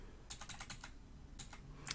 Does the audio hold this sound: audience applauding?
no